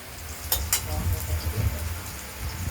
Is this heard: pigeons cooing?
no